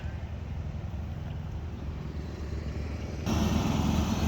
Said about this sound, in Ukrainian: Їздить трактор, шумить мені тут, косить Джондір маленький.